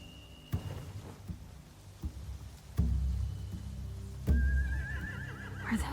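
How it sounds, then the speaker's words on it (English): A horse in The Walking Dead: The Final Season video game whinnies and snorts amid low thumps and rumbles, with a high wavering neigh near the end over a quiet ambient background. "Scare the horses, too."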